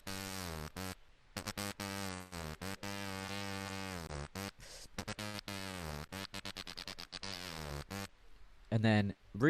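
A beatboxer imitates the Satisfaction bass line using very tight lips for a high-pitched, buzzing, pitched tone in rapid stuttering bursts, close and alone, ending with a brief noisy burst.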